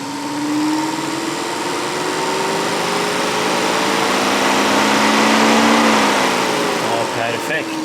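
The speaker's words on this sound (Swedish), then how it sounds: "Vi tar full fart på kylfläkten." Car radiator cooling fan running at full speed during an OBD2 scanner activation test, a loud steady whirring drone with a slowly shifting pitch and a voice talking over it.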